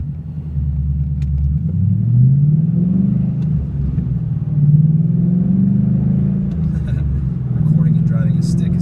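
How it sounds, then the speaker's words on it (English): A 2012 Mustang GT with an MBRP Race Series cat-back exhaust, heard from inside the car while driving, gives a loud, continuous deep rumble that rises and falls with revs and gear changes. Someone talks over part of it. "The Race Series sounded a lot meaner."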